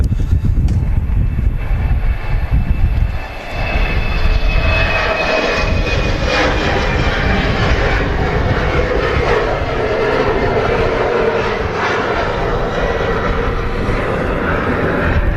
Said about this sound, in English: GV WAG is the reg on this Virgin Atlantic A330 300.